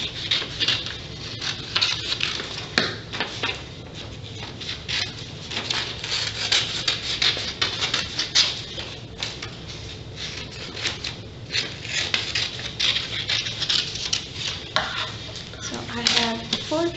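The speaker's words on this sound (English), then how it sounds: "So you can cut out as many as you want because this will give your snake some length." Scissors snip through paper while cutting out snake body pieces, a long close run of irregular crisp cuts and rustling paper, with occasional handling noises.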